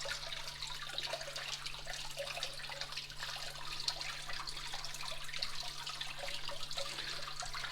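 River water runs steadily through a gold prospecting sluise setup on the Kern River at Hart Park, a constant soft rushing and trickling at low level with no talk.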